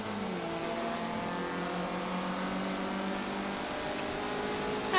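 A race car engine in a racing video game drones steadily and fairly quietly, its pitch rising slowly across a sustained run with no voices over it.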